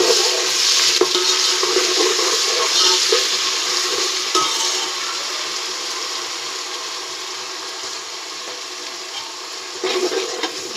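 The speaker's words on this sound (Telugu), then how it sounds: "ఇప్పుడు అల్లం పేస్ట్ బాగా మిక్స్ చేసుకుందాం." Ginger paste stirred in a frying pot for bagara rice, a close scraping stir over a soft sizzle that grows quieter toward the end, with a brief clatter near the finish.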